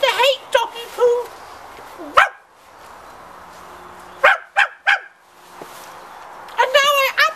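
A dog barks and yips in short bursts, several sharp barks spaced across the clip and a cluster near the end, with a person's voice talking between them.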